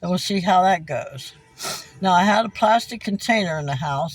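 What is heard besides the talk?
No everyday noise stands out behind the speech.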